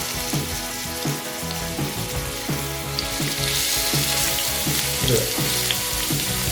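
Ginger garlic paste sautéing in plenty of hot oil for liver fry: loud, continuous sizzling and crackling close up, with occasional stirring clinks and no talk.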